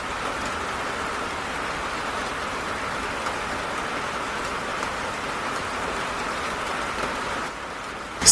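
Steady rain falls in Guadeloupe, an even, continuous hiss of drops on surfaces with no voices.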